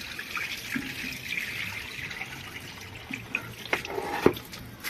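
Water runs and splashes while pigeon food grains are rinsed and rubbed by hand, a soft steady trickle with scattered drips and sharper splashes toward the end.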